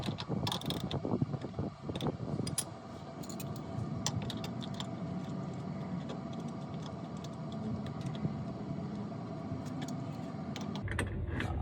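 A ratcheting wrench runs down a 14mm nut on a Toyota Hiace front strut during a lift kit install, giving close, rapid mechanical clicking in steady strokes with light metallic clatter and no talking.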